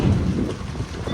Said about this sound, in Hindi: अभी बारिश आ गई है